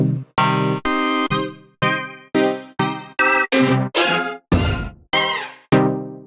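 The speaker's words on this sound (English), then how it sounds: "We also include a big folder of rave steps, which are all key labeled and sound like this." Loud, buzzy synth stabs hit in a choppy rhythmic pattern, each short burst shifting pitch, typical of a rave-style electronic music loop.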